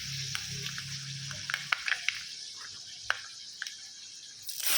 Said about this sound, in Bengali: তেলটা হয়ে গেছে, মেথি ফোড়ন দিচ্ছি